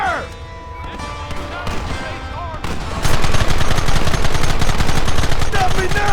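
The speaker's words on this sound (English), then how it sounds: "There they are! Open fire!" Rapid gunfire crackles through a Red Dead Redemption shootout, quieter at first and then a dense, loud barrage of repeated shots from about three seconds on, with voices shouting over the fight.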